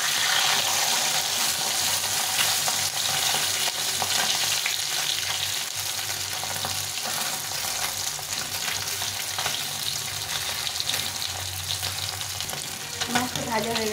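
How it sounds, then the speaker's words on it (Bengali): Pabda fish frying in a pan for a mustard-poppy seed dish: a loud, continuous crackling sizzle of hot oil, close up and unbroken, with faint stirring and turning noises underneath. "মাছটা উল্টে পাল্টে ভেজে নিতে হবে।"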